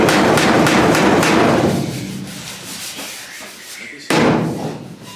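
Bondo body filler is scraped on with a spreader in quick, rough, rhythmic strokes. The strokes fade to softer scraping, then a sudden louder pass follows near the end.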